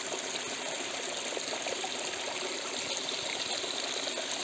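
Cold water in a mountain stream flowing and gushing steadily around boots, a continuous broadband rush with no pauses and no voices.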